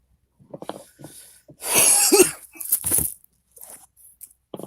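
A series of harsh, raspy smoker's coughs breaks out in bursts, the loudest fit in the middle, with some throat clearing after it.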